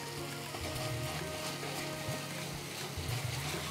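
Ginger and green chili paste sizzles and fries steadily in a pan while being cooked down for dhokar dalna, a soft, even crackle that runs throughout with no voices.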